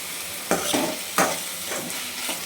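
Steady sizzling of onions and tomato frying in a pan, with a couple of louder scraping stirs breaking through the continuous hiss.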